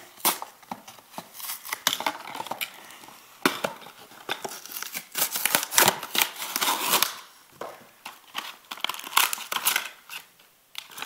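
Beyblade Gravity Destroyer toys pulled from plastic packaging, with busy crinkling, rustling and tearing of wrappers in quick irregular bursts, close by and without talk.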